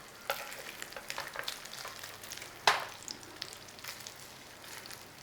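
Food frying in a pan and flipped to build a crispy crust, with a faint steady sizzle, scattered crackles and one sharper clack near the middle as it turns.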